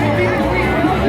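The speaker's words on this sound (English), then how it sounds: "Very peaceful and friendly crowd." About 5,000 people gather at a peaceful march in Phoenix, a loud steady babble of many voices chattering together, close and continuous.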